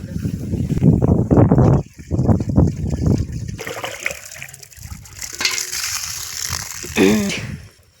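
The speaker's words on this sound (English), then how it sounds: "Now it's time to fill the water." A mechanical irrigation water pump rattles and clicks while water gurgles and trickles as it fills, louder churning early on, then lighter splashing and ratcheting sounds.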